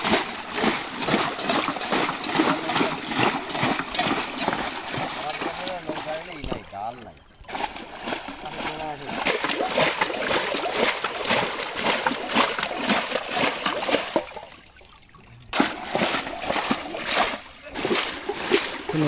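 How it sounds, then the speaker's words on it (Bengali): Water being bailed out of a boat on a river for traditional fish catching, with repeated splashing and sloshing scoops close by under ongoing talk, pausing briefly twice. "নৌকা সেচের কাজ শুরু হয়ে গেছে।"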